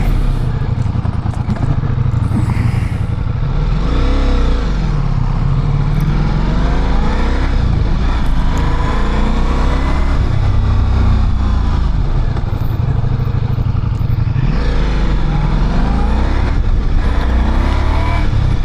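A Ducati Multistrada V4 S motorcycle engine roars loudly and continuously up close, rising and falling in pitch as it accelerates and shifts gears, with wind rushing past.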